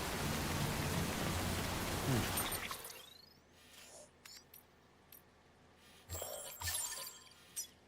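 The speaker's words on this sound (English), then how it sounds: "It's still raining! Why is it still raining?" Rain falls in the Death Stranding game, a dense, loud hiss of downpour for the first few seconds that cuts off abruptly, followed by quieter scattered knocks and rustles.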